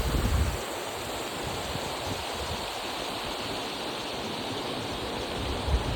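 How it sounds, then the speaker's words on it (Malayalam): A waterfall at Chengara hill in Konni roars with a steady, dense rush of falling water that stays even from start to finish. "നമ്മളങ്ങനെ നമ്മുടെ വെള്ളച്ചാട്ടത്തിൽ എത്തിയിട്ടുണ്ട് കേട്ടോ"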